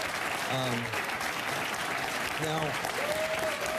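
Studio audience applauding on a television talk show, continuous clapping under a voice speaking briefly over it.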